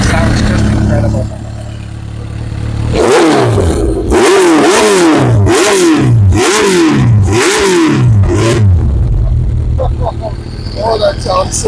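A 1996 Kawasaki Ninja ZX7R sport bike with a Muzzy exhaust fires up and revs hard, a run of sharp, loud rising-and-falling revs close by, settling back to idle as a voice talks near the end.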